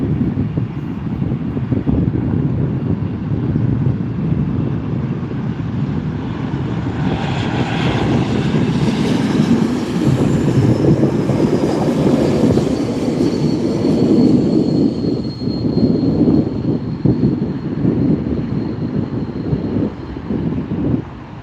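A one-year-old airliner, built in May 2022 and wearing a special livery, lands at SNA airport at night, giving a loud, steady jet roar for over twenty seconds with a rising whine partway through and no talk.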